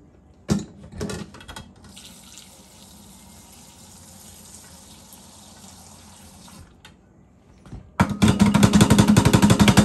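Liquid pours into jars of beans being packed for pickling in an Appalachian kitchen, starting with a few splashes and knocks, then a long soft steady trickle and a loud gushing pour near the end.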